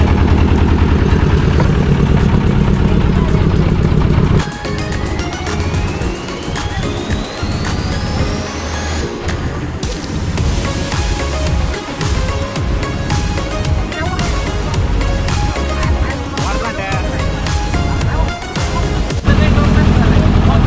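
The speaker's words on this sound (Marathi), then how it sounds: "बोटिंग सुरू झालेली आहे. आता आम्ही निघालोय वासुड्याच्या दिशेने बोटिंग करत." A motorboat engine drones steadily throughout a boat ride on water during a Vasota jungle trek, with voices talking over it and a louder stretch at the start and end.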